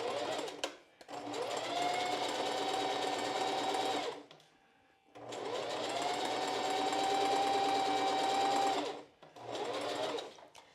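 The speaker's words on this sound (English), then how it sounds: "I'm just going to sew at that 1/8 of an inch seam allowance." A sewing machine basting a narrow seam on a strapless bra, running close and steady in three bursts, the longest two several seconds each, with its motor whine rising at the start of each run and cutting off in brief pauses.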